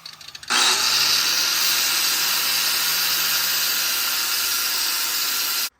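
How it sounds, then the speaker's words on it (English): An angle grinder with a flap disc grinds a metal part for a car's steering angle kit, starting abruptly and holding a loud, steady high-pitched whine and hiss at close range for about five seconds before cutting off. "So change to a flapper disc because I don't want to actually cut this at all. So now I'm going to just grind."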